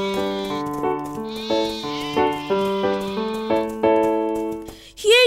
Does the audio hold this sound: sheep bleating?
yes